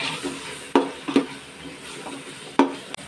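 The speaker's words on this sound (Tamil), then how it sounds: "நல்லா வதக்கி விட்டுக்கலாம். அடி பிடிக்காம வதக்கிக்கலாம்." Masala for chicken biryani being stirred and sautéed in a pan, soft sizzling under a few distinct spoon scrapes and clinks against the pot, close and fairly quiet.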